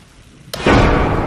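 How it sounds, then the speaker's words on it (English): A sudden loud thunderclap cracks once during a thunderstorm, followed by a sustained roaring wash of heavy rain and rumble that stays loud to the end. "Maybe it was the storm."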